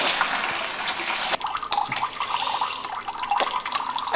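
Water pours and splashes into a big bucket with a steady hiss and gurgle, broken by a few sharp knocks and shifts in the flow. No one speaks.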